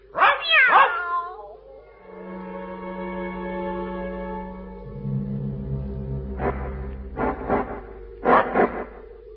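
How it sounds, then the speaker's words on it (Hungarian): A dog and a cat cry out together in a stage scene: a loud opening yelp with whimpering overtones, then sustained tonal wails and several bursts of barking toward the end. "A kutya és a macska eddig összegömbölyödve hevert a szekrény lábánál. Most egyszerre nagyot kiáltanak."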